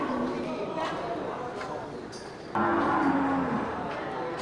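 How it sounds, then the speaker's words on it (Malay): Simmental crossed with Aceh cattle stand at a crowded livestock market, with a moo rising partway through above a busy hubbub of talking people and faint clatter. "ini satu ekor sapi simental saya persilangkan dengan sapi Aceh"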